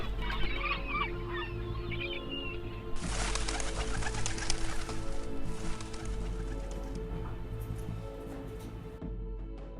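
Pigeons coo in a city where seagulls have moved in from the coast, soft repeated calls near the start, then a burst of flapping wings and fluttering, with steady low background rumble.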